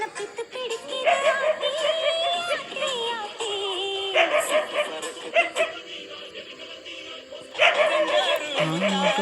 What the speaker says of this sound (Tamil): நாய் மட்டும் குலைக்குது